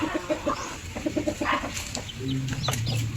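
A Rhode Island cross native hen and her one-month-old chicks cluck softly in a busy farmyard with a scattering of short calls and chirps over steady background noise.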